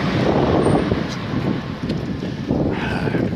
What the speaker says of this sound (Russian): Ветер, дует ветер сегодня и вчера.